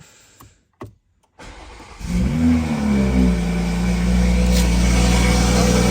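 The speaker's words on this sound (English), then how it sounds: "So this is gonna be an actual cold start." A Toyota Supra cranks over briefly after a few clicks and then catches on a cold start. It settles into a loud, steady, fast idle that rises and dips slightly, recorded close by with no talking.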